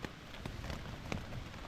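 Hard rain falls in windy, wet weather at a campsite on the Normandy Atlantic coast, a steady dense patter with scattered louder drops and gusty noise throughout, no talking.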